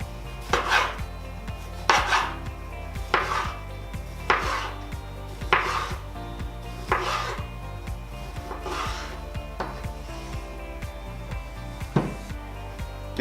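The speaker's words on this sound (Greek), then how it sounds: "Ακολούθως, κόβουμε το kiwi μας σε ροδέλες." A knife cuts kiwi into rounds on a board for a spicy hookah cocktail, with about eight crisp, evenly spaced chops, each landing as a sharp knock, up close and with no talk.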